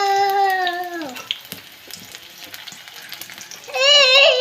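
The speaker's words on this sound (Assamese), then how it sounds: "অকণমান পিঁয়াজবোৰ ৰঙা হ'ব দিছোঁ" Onions sizzle in a hot pan as pasta is cooked, the frying loud at the start and again at the end, with a quieter hiss and some clinks in between.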